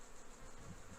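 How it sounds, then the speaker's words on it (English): Flies buzz around a bush shelter on the Bibbulmun Track, giving a close, continuous insect drone over a faint outdoor background, with no talking. "The flies are happy now I'm here, they're all buzzing around."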